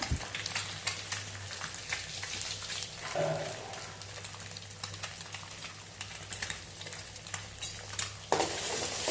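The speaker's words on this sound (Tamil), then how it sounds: "இந்த எக்கை நல்லா மிக்ஸ் பண்ணி விடுங்க. நல்லா வேகட்டும் அந்த எண்ணெயிலேயே." Eggs scrambled and cooked in oil in a pan, with a steady close sizzle under repeated scraping and stirring of a spatula and a few clanks against the pan, and no voice.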